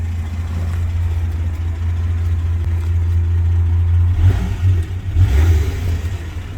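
A 1974 Dodge Dart's Slant 6 engine, fitted with a muffler, idles with a deep steady rumble up close, then gives a couple of brief revs near the end.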